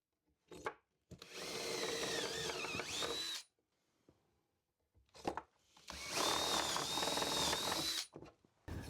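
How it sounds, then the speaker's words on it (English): A power drill with a 7mm bit bores into a wood panel in two sustained bursts of about two to three seconds each, with whining, rising pitch and short clicks between them, close and loud with no talking. "now I'm going to drill down on the points that these Forstner bits left"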